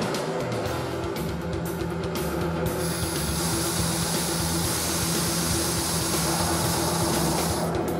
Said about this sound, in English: This is the very first turbojet Mark Nye ever built. Constructed from a stock off-the-shelf automotive turbocharger